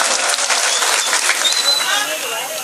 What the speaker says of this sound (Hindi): जोरदार तालियों से इस्तकबाल कीजिए मोहतरम डॉक्टर राहत इंदौरी साहब का